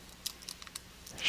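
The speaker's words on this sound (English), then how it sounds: "We're going to type" Scattered keystrokes on a computer keyboard, a handful of light, quiet clicks in an irregular rhythm, with no talking.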